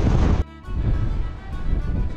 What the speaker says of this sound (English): on a very windy day